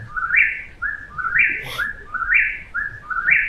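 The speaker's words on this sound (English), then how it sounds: "Another one I released was the old whippoorwill, everyone's favorite bird on the Appalachian Trail." Eastern whip-poor-will calling along the Appalachian Trail, its loud, clear whistled three-part song repeated several times in a steady rhythm, close by, with faint background noise and no talking.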